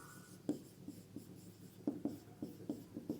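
Pen writing on paper during a physics lesson: a run of short scratchy strokes with clustered taps, close and quiet, with no talking.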